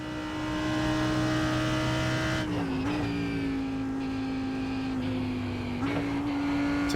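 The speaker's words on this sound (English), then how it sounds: "the car's like trying to break free and chattering underneath you." A GT race car in a sim racing game holds a loud, steady engine whine close up, with brief dips at gear changes and faint tire chatter underneath.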